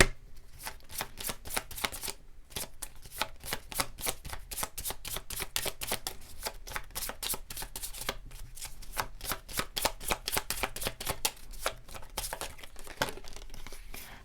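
A deck of tarot cards is shuffled close up, with rapid runs of crisp papery flicks and riffles repeating in quick bursts, alone without talk.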